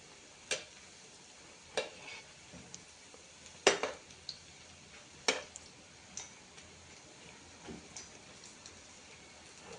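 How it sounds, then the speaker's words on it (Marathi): Onion bhaji deep-frying in oil on a low flame: a soft, quiet crackle and bubble with scattered sharp pops and a few louder ticks of a utensil at irregular intervals. "गॅस कमी ठेवूया आणि दोन्ही बाजूनी चांगले भजी आपण तळून घ्यायचं"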